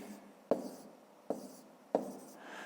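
A pen moves over paper while a fifth-grade maths exercise is written out, making three short, close scratchy strokes spaced about a second apart against a quiet background.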